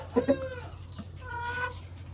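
Several soft clucks from Wyandotte chickens, a quick pair at first and then a few more scattered over a low background hum.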